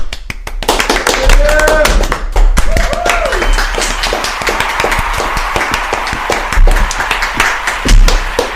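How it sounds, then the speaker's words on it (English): Applause for podcast guests, a steady patter of clapping hands running throughout under ongoing voices. "I want to give a round of applause"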